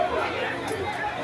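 A crowd packs Trio Street on Lagos Island, and their overlapping chatter and street babble make a dense, steady hubbub at moderate distance, with voices in the foreground.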